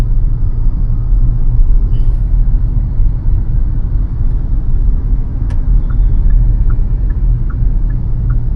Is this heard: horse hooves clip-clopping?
no